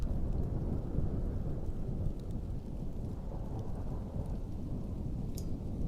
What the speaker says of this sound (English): that's why I have the Thunder soundtrack